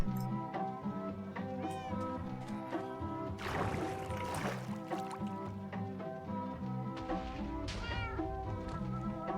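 A cat meows repeatedly in a modded ocean survival video game, layered over steady music and boat or water sounds, with a brief louder burst of splashing midway.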